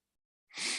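A single short, sharp human sneeze bursts out at the very end after near silence, close and fairly loud.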